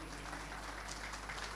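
Applause from an audience at a corporate annual Bollywood-night event, a steady, dense patter of clapping that sounds somewhat distant and muffled under a low hum, with no voices over it.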